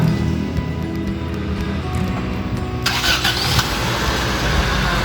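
A 1994 Honda Civic Genio SR4 engine cranks and catches partway through, then settles into a steady, close idle with a low continuous rumble.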